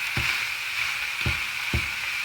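Seasoned pork sizzling in hot oil in a pan, a steady frying hiss broken by three low knocks of the meat being moved, with no talk.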